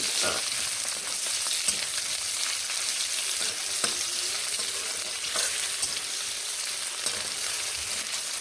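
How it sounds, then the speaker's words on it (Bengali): Chopped tomatoes fry with a spice tempering in hot oil for a pointed gourd and pumpkin dish, a steady close sizzle broken by occasional sharp clicks of stirring. "এবার এখানে আমি টমেটো কুচি দিয়ে দিচ্ছি টমেটোগুলো এইভাবে ফোড়নের সঙ্গে নেবে"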